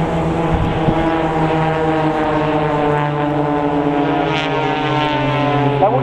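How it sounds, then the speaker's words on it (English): Blades aerobatic team propeller aircraft performing a flying display at an air festival, a steady loud engine drone with harmonic tones filling the whole stretch, rising slightly as the planes pass near. "Watch out for those manoeuvres as the blades fly towards each other for the double cross."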